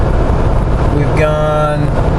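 Jeep Wrangler JK with a 5.3 LS engine cruising on the highway at about 75 mph and 1800 RPM: a steady low drone with road noise, while someone speaks briefly over it.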